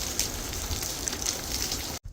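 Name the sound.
rain falling in Las Vegas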